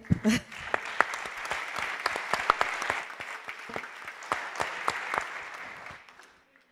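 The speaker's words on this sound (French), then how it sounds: "Et un tonnerre d'applaudissements pour Sylvie Brunet" An audience at a political party's university opening session bursts into applause, a thick wash of clapping that swells at the start and fades out toward the end, heard alone without talk.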